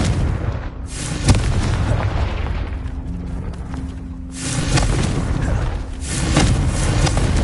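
Confringo blasting spells explode in Hogwarts Legacy, a series of loud, booming blasts with rumbling tails, heard alone with no talk.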